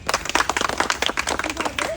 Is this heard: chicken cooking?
no